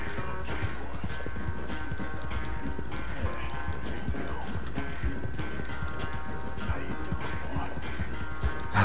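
Rapid hoofbeats of a galloping horse in Red Dead Redemption 2 pound steadily beneath a dense game soundtrack, with music and effects layered throughout.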